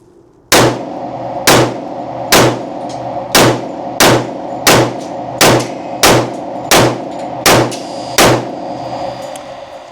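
A Smith & Wesson M&P 10mm pistol fires Underwood ammunition: eleven loud, sharp shots at a steady rhythm about one per second, each with a short ringing tail, and no talking.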